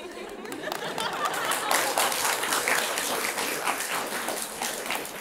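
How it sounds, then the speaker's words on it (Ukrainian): Audience applause at a talk-show or podcast taping, a loud dense wash of clapping for about five seconds with faint chatter and a little laughter mixed in. "Якісь траурні оплески були"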